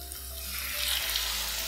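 Chicken pieces with lightly fried onions sizzle in hot oil over a medium flame, a steady bright frying hiss that swells a little after the chicken goes in.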